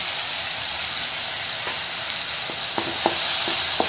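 Tomatoes and green chili frying in a pan for jeera fried rice make a bright, steady sizzle over medium heat. Several quick utensil taps and scrapes cluster toward the end, with no speech.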